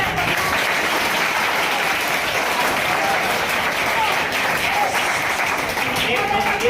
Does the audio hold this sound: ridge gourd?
no